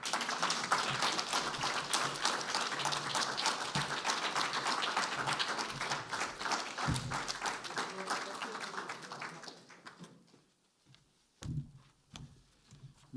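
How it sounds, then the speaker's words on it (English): An audience applauds painter Pete Hocking after a faculty presentation, steady clapping from many hands that thins out and fades toward the end, leaving a few scattered claps and small noises. "More applause for Pete Hocking,"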